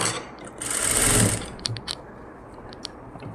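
A sewing machine stitches a blouse lining at the neck finishing, a dense whirring run that swells in the first second and then settles into quieter intermittent mechanical clicks.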